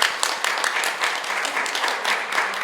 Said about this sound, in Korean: 한 번 더 큰 박수 부탁드립니다